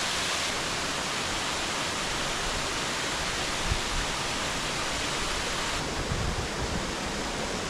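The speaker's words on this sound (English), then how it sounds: "This is Ramona Falls" Ramona Falls on Mount Hood's Timberline Trail pours in a dense, constant roar of falling water, loud and close throughout, with no voices over it.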